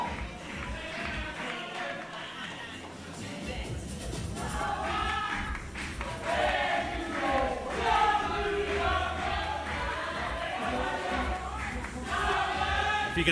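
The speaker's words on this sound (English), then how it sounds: "the quality of the singing in the crowd has deteriorated massively as the night has worn on" A pub crowd at a pool tournament sings and chants loosely through the whole stretch, a dense wash of many voices at moderate distance with occasional louder swells, no single voice standing out.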